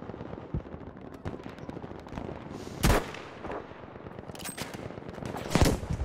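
Gunfire in the video game Battlefield V, with rapid bursts of automatic fire and a few sharper, louder shots standing out over continuous battle noise, no talk over it.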